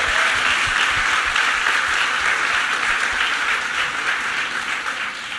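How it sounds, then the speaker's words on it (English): Steady audience applause at a school-focused gathering, dense and sustained throughout, with no talking over it and a slight fade near the end. "clapping is definitely in order"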